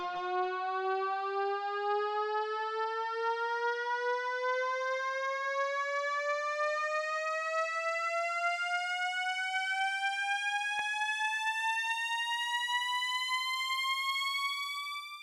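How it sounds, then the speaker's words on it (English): A synth riser built from a violin sample pitched up two octaves climbs steadily and smoothly in pitch for about fifteen seconds, a loud sustained tone with no pauses or voices. "Way more intense of a riser"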